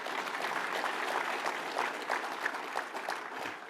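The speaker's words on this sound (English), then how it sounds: "Go ahead and applaud him again" Applause from an audience at a Colorado political event, a dense, moderately loud patter of many hands lasting the whole stretch with no voices over it.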